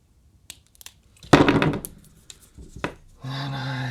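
Wire cutters snip through the cable of a wired Xbox controller in a sharp crunching cut, followed by a few small clicks and handling noises, then a brief steady hum.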